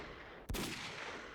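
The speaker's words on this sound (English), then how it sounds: "Wow, actually, that was a pretty nice grenade." A single sharp grenade blast in a video game, with a sudden crack followed by a short fading rumble over quiet background noise.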